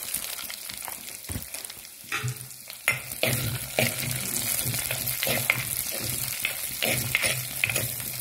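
Curry leaves hit hot oil in a clay pot and sizzle loudly and steadily up close, with stirring scrapes and clatters breaking through the frying.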